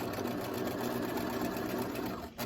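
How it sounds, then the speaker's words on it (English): A sewing machine stitches down the side seam of a bucket hat in a steady, fast, continuous mechanical whir that stops abruptly at the very end. "I'm going to stitch down this side."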